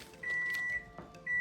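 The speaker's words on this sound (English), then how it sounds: "there goes my timer" Kitchen timer beeping in a home kitchen during chicken preparation: two thin, high, steady electronic tones, one long and a second starting at the end, clear against a quiet room.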